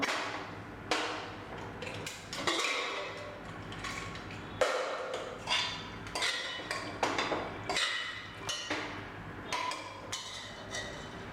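A cooled pressure cooker holding chicken kurma is opened, with a run of close metallic clanks, lid scrapes and clinks coming in uneven bursts over roughly eleven seconds and no talk.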